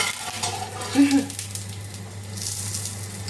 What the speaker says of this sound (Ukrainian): Смажиться, смажиться.